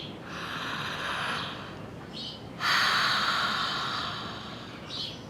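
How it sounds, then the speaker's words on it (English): Slow, deep breaths drawn in through a wide open mouth during a breathwork session, heard as long airy inhales and exhales that are close and soft, with a stronger inhale midway. "we're gonna take in a deep inhale with a big open mouth"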